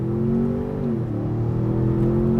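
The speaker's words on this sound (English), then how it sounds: "I think that's piped in V8 sound." V8 engine note piped into the cabin of a 2025 Ford Expedition as it revs, a close, steady low growl that swells and settles briefly before holding a smooth drone.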